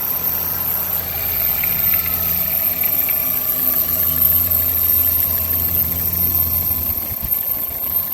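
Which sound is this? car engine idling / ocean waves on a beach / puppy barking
car engine idling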